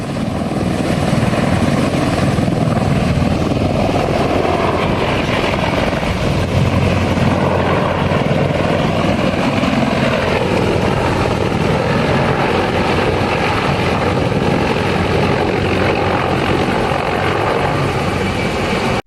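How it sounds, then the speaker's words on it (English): A CH-53E military heavy-lift helicopter coming down for an emergency landing on a beach, its rotor thudding loud and steady throughout with a dense, unbroken engine roar and no voices. "CH-53E is the largest and heaviest helicopter used by the military."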